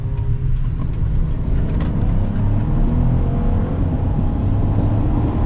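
Low rumbling engine and road noise from a lifted Chevy Trail Boss taking a turn in sport driving mode, steady and fairly loud throughout with no talking.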